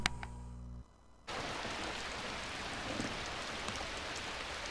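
A steady downpour of rain starts suddenly after a short low hum and a quiet gap, then continues as even, close hissing patter in a zombie-apocalypse radio drama set around H1Z1.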